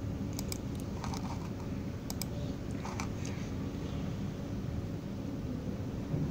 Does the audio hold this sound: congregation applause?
no